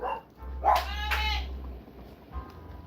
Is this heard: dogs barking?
yes